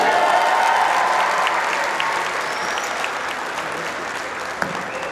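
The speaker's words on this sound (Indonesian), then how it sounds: "tepuk tangan untuk semua yang hadir di sini." Sustained applause from a crowd at a volunteer declaration rally, dense and fairly loud at first, then easing slightly while clapping carries on steadily.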